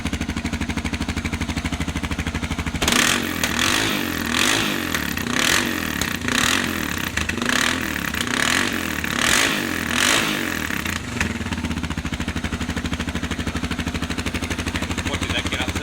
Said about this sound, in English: Now I'll give it a bit of a rev and we'll see what we can get it up to